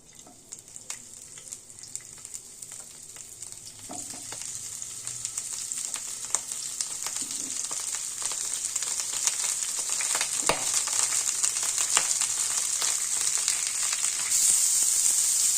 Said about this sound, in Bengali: এই ব্রোকলিগুলোকে একটু ভেজে নেব।